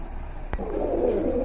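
Pigeons cooing in a loft of active fancy breeds, a soft low throaty coo rolling in after a brief sharp click, close and fairly steady over a faint background hum.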